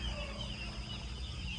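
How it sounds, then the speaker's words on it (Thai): Young ducks hatched from an incubator call in a soft, steady stream of fowl-like peeps and chatter over a noisy, rumbling background, with no voices present. "อันนี้ก็คือเป็ดที่ฟักจากตู้ของพวกเขาเองเนาะ"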